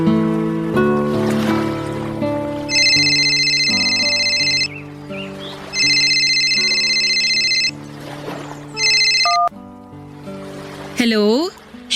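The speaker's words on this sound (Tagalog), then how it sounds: "tinawagan niya ako sa cellphone ko, Papa Dudut." Incoming call on a cellphone, a repeating electronic ring in bursts over background music, fairly loud, ending in a rising tone.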